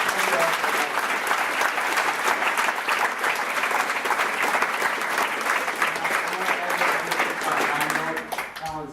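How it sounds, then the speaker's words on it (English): A large student audience at a 2015 SADD state convention in Bismarck breaks into dense, continuous applause that stays loud and steady for several seconds before tapering off as a voice begins at the very end. "So give yourself a quick round of applause."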